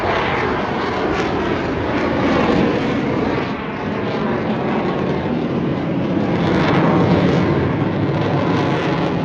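Eurofighter Typhoon jet flying over the Blackpool Air Show, a loud, sustained roaring thunder that swells and eases slightly as it passes, heard alone without voices.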